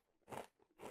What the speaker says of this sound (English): Lovely crunch.